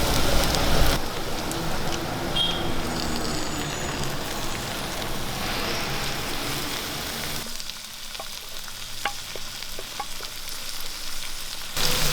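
Beef fries in a pan with curry leaves for Kerala-style beef ularthiyathu, giving a loud, steady, crackling sizzle that continues throughout with occasional stirring scrapes.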